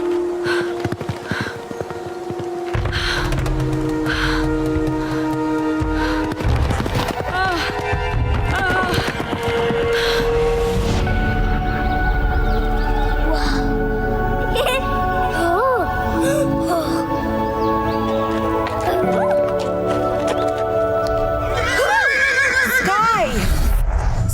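A horse neighs and whinnies repeatedly over hoofbeats and a dramatic musical score, the calls rising loud near the end.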